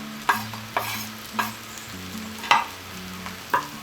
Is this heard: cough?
no